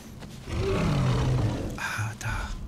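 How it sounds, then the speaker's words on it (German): A tiger in the Far Cry Primal game lets out a loud, close growling roar lasting over a second, followed by shorter rumbling snarls, with a voice speaking over part of it. "Tiger? Tiger!"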